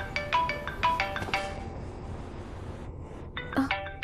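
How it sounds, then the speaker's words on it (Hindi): A phone ringtone chimes in a quiet room, a series of bright repeating electronic tones, fairly faint, pausing and then resuming with a higher melodic phrase near the end. "मोमो का ही फोन आ गया।"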